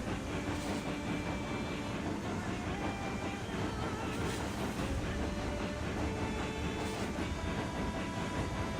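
A coal-fired steam locomotive running in a railroad video game, heard as a steady, dense rumble and rhythmic clatter with a hissing wash, constant and fairly close for the whole stretch.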